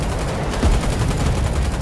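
Gunfire in the war game Foxhole: a dense, noisy burst of rapid shots and rumbling fire that runs continuously through the moment, loud and close.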